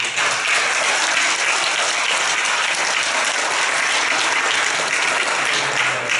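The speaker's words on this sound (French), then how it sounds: "Je vous invite à donner une bonne main d'applaudissement aux personnes qui ont donné de leur temps et énergie pour assurer" A graduation ceremony audience at Collège Boréal's Hearst campus gives steady, loud applause, a thick continuous wash of many hands clapping without a break.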